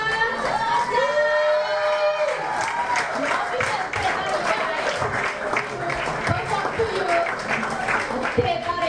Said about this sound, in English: let us give a big round of applause for Macha!